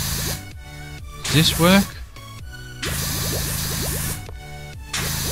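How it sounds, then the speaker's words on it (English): Pressure washer spraying wood cleaner in the PowerWash Simulator game, a steady broadband hiss that starts, stops and restarts in long bursts, with a voice talking between and over the spray. "So let's put that on and let's spray it here."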